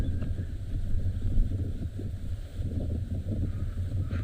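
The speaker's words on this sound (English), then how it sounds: "And slightly more windier out in the open here." Wind gusting across an open spot on a sunrise safari, a continuous low rumbling buffet against the microphone with no voices.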